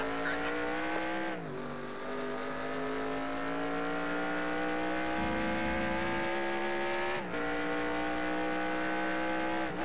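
A NASCAR stock car spins out at Watkins Glen in NASCAR Racing 2003, the steady engine drone broken by two sharp dips in pitch with a short burst of tire scrubbing between them, while other car engines hum on close by.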